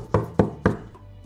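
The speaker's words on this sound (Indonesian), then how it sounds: "tiba-tiba mereka dengar pintu lagi diketok" Three firm, evenly spaced knocks on a wooden door sound close and loud, each a sharp thud followed by a brief hollow ring.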